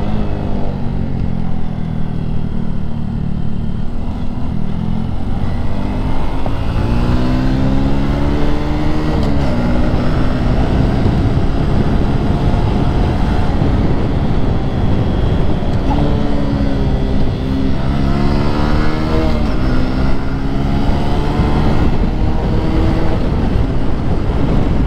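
Suzuki Smash 115 Fi motorcycle engine labouring loudly and steadily as it climbs a steep mountain road, its pitch rising and falling with effort under heavy wind rush, with no one talking.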